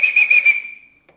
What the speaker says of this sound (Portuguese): Que eu não aguento mais esse apito.